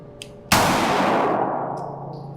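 A single sharp handgun shot on an outdoor range during a red dot draw drill, loud and close, with a long ringing decay and faint metallic pings after.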